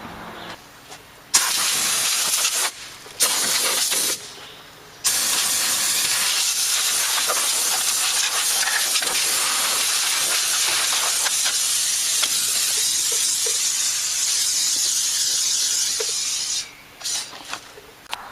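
A charged portable air compressor blows air in a loud, close, continuous hiss that runs for most of the stretch, after a few short on-off bursts at the start.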